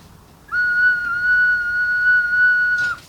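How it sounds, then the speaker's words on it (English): A small ceramic whistle blown once in a single steady, clear high tone held for about two and a half seconds, close and fairly loud, then stopping with a faint breathy release and no voices. "I also have this little ceramic whistle that I brought that I'm going to just sound in honor of the birds"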